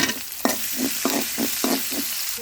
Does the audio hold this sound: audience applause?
no